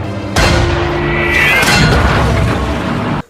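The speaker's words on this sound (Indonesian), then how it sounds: "dengan satu tembakan saja, tank musuh mampu menghancurkan satu tank milik pasukan Sersandon" A World War II tank cannon blast booms suddenly and loud, followed by a sustained rumbling roar and metallic ringing that cuts off abruptly.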